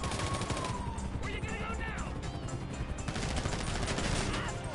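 Rapid gunfire during a GTA 5 heist job, bursts of automatic shots crackling continuously and loudly over a busy game mix with engine and effect noise.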